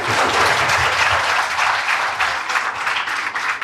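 Audience applause at a stage event for a cancer information booklet release, a loud, dense burst of many hands clapping close and continuous, slowly thinning toward the end.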